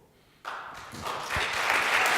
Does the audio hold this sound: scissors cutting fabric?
no